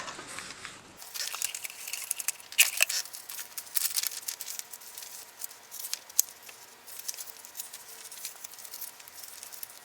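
Scissors snipping thread and fiddling with paper on a handmade junk journal, a close, continuous run of small crisp snips, rustles and crinkles.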